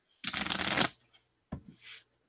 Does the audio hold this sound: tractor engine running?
no